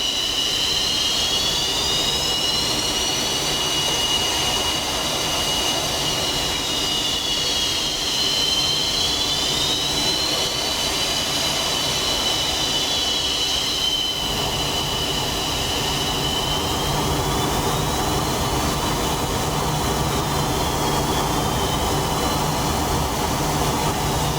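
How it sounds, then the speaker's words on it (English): Steady, loud jet engine roar of a MiG-29 in the flight simulator DCS, a continuous whine with shifting high tones over a low rumble throughout, no voices. "compare to what this MiG-29 sounds like"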